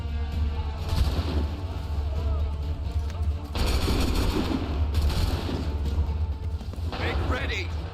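Musket volleys in Assassin's Creed 3 crack out as broad, booming fusillades, one near second one, a heavier sustained burst around second three to five, another near seven, over low rumble and shouted commands.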